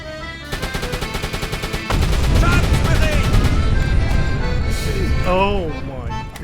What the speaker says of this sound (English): The sub took some hits, but at least nobody died, and I shot down some British bombers.